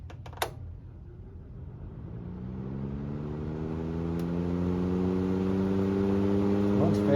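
A 1997 Honeywell HW-612 12-inch reversible window fan spins up on high in exhaust mode, its motor hum rising steadily in pitch and loudness as the blades gain speed, with a click near the start.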